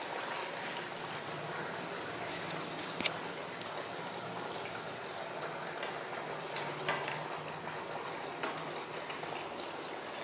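Fried pointed gourd pieces stirred into a simmering coconut milk gravy, a continuous close bubbling sizzle with occasional spoon clinks against the pan, no voices present.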